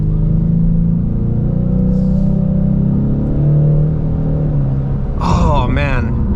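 A 2025 Ford Mustang EcoBoost pulls onto an open highway during break-in driving, its engine a loud, steady cabin rumble that rises as it accelerates, with a brief voice exclaiming near the end.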